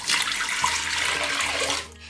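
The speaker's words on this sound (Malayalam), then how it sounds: "ഈ കുക്കറിനകത്ത് ഈ ടിന്ന് മുങ്ങുന്ന വിധത്തിൽ വെള്ളം ഒഴിച്ചു കൊടുക്കണം." Water pours in a steady, splashing stream into a pressure cooker holding a tin, running for about two seconds before cutting off.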